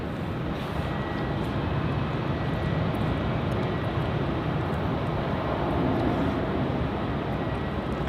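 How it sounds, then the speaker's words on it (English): A Virgin Australia jet airliner takes off from runway 27 at Melbourne Airport, its engines giving a loud, sustained roar with a broad rumble that holds steady throughout. "Taking off there on runway 27, we have Virgin Flight VA 217 heading off to Adelaide."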